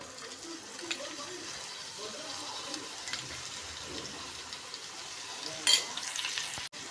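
Biryani masala, red chili powder and yogurt sizzle in a hot pan as a home-style curry base cooks, a soft, steady frying hiss with a brief sharper burst of sizzle near the end.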